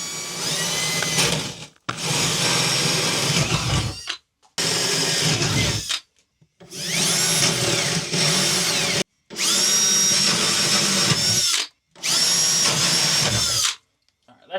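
A power drill bores holes through a car body panel on a police Whaler to make a speaker opening, in six loud, close whining bursts of a second or two each, separated by short silent pauses.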